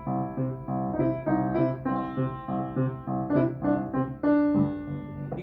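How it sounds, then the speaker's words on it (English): A bright piano melody played in short bouncy phrases, quick grace notes flicking into the main notes for a light, skipping rhythm. "for the right hand, you can add some of these grace notes like this, which makes a fun little skipping noise"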